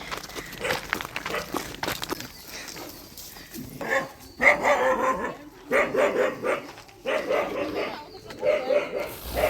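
A dog barks in short bursts several times, fairly close, mixed with other background noises and scattered sounds.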